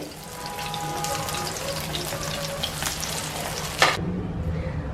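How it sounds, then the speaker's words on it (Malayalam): Brinjal slices pan-frying in oil give a steady, close sizzle with faint spatula scrapes and one sharp clink near the end. "എന്നിട്ട് ബാക്കിയുള്ളതും അതുപോലെ തന്നെ ഫ്രൈ ചെയ്തെടുക്കാം"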